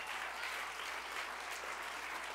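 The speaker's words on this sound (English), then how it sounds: "Clap your hands," An audience at a children's church service claps in a dense, continuous burst of applause, steady and fairly loud for a couple of seconds.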